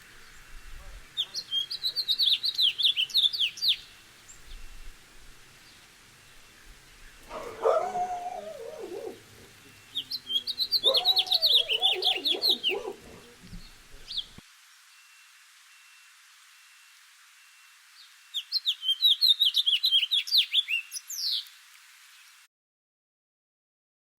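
Three bursts of recorded bird song phrases played at full speed, each a rapid high twittering run with a short trailing flourish, separated by gaps; a lower voice-like interjection sits between the first two.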